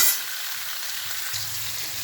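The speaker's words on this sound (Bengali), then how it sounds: "সঙ্গে শিমও দিয়ে দেবো। দিয়ে ভালো করে বন্ধুরা নাড়াচাড়া করে সবজিটাকে ভালো করে ভেজে নেব।" Mixed vegetables with flat beans stir-fried in a pan, a steady broadband sizzle with faint scraping of stirring, close and continuous for a couple of seconds with no talk.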